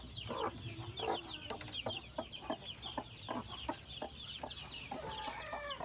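A hen clucks repeatedly in short, rhythmic bursts while chicks peep in high, thin chirps close by.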